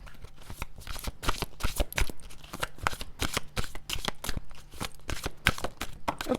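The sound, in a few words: tarot cards being shuffled, one flies out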